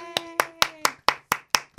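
People clapping hands, eight sharp evenly spaced claps in a steady rhythm, close and clear, with a brief sustained tone fading under the first few.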